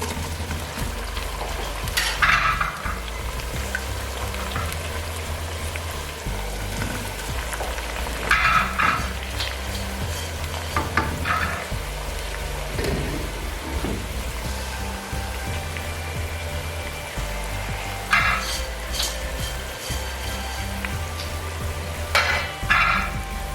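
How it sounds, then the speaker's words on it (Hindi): Boiled rice is stirred into melted sugar in a large pot for zarda, giving a continuous bubbling sizzle with occasional louder scraping stirs, close and steady. "अब इसी स्टेज पे हम इसमें डाल देंगे ये चावल जो हमने बॉईल किए हैं।"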